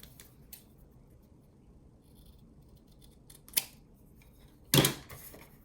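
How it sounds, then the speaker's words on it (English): Scissors trim paper for a small 3x3 mini album, giving two crisp snips, one quick and one louder, over a quiet room background. "I really did a bad job there, so I'm going to go ahead and trim that."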